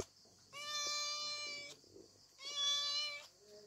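Two drawn-out cat meows, each about a second long, close and clear with a short pause between them, then a softer trailing call.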